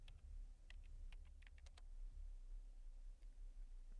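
Quiet, clicky keystrokes on a computer keyboard as a command is typed into a Linux terminal, a short run of taps over a low steady hum.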